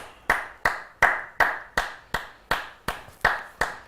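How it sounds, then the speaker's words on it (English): Hands clap alone in a steady rhythm, about ten sharp, evenly spaced claps, close and clear against a quiet background. "Stop clapping."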